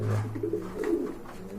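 A brief burst of low, rolling pigeon cooing comes from close by at a pigeon farm, heard alone without talk.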